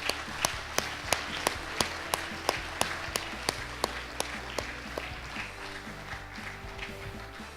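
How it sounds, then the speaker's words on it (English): Audience applause at a District 51 Toastmasters opening ceremony, heard as a broad steady wash of clapping, with a regular series of sharp, loud claps or taps standing out evenly throughout. "Let's give them a round of applause."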